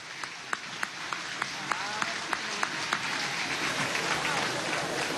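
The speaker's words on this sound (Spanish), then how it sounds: "un gran aplauso a la inauguración de esta base de misión" Crowd applause at the inauguration of a mission base during a youth day march at Plaza Bolívar, a dense steady wash of clapping with sharp rhythmic claps standing out early, continuing strongly throughout.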